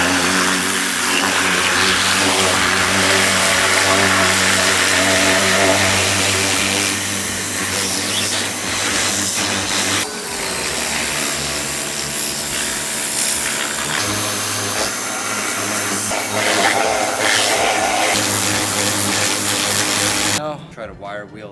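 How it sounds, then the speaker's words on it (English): A pressure washer runs continuously with a loud, steady motor drone and hiss, cutting off abruptly near the end, while someone talks over it. "I got the pressure washer out here."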